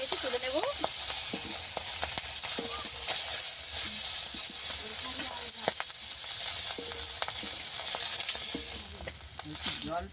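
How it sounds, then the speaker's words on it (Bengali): Fish heads frying in hot oil in a Bengali home kitchen, a steady loud sizzle and hiss with occasional stirring scrapes and brief clinks, fading slightly near the end. "মাছের মাথাগুলো ভেজে নেব"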